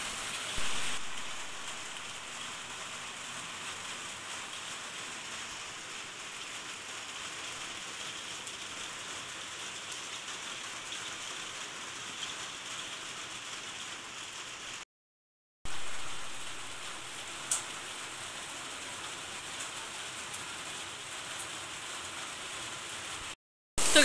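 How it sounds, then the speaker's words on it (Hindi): Heavy rain falling outside in cold weather, with small hailstones coming down, a dense, steady hiss close by that runs for over twenty seconds, broken by two brief silent gaps. "इतनी तेज़ की बारिश हो रही है ना, बहुत तेज़ की। ये देखिए आप लोगों को आवाज़ आ रही होगी"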